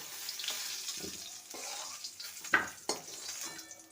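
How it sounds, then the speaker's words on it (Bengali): Potato pieces frying in hot oil, a steady sizzle with bursts of crackle and a few clinks as they are lifted out, close and moderately loud with no talk. "আলুটাকে ভেজে নিয়েছি, এবার আলুটাকে তুলে নেব।"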